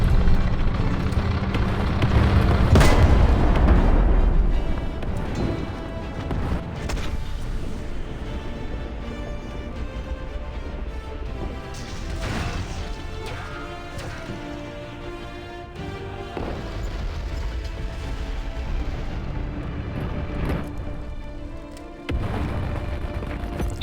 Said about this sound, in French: Cliquez sur le bouton frappe d'artillerie pour envoyer une frappe d'artillerie sur l'ennemi.